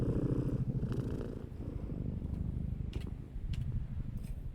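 A kitten purrs close up in a loud, steady, rumbling rhythm of rapid pulses that carries on throughout with no pauses, heard alone without any voices.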